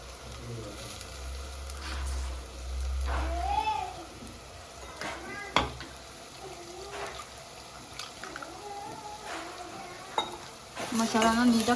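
Onions and masala fry in a pan for radish saaru, with a soft steady sizzle and intermittent stirring scrapes, while voices talk over the cooking and a few brief water sounds come through.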